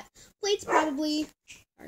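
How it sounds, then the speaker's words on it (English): A pet dog barks and yips a few times in short, close bursts in an indoor room, mixed in with a person talking nearby. "that's my dog."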